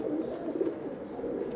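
Teddy pigeons cooing steadily and close by, a soft continuous murmur of low coos running through the whole short moment with no talking.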